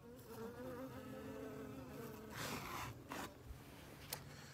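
Honeybees buzz steadily around an open hive during the division of a strong colony, a dense continuous hum close by with brief louder passes as individual bees fly near.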